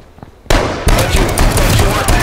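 Rapid gunfire in the survival video game H1Z1, bursting in loud and dense after a quiet half-second and continuing as a sustained, crackling barrage to the end.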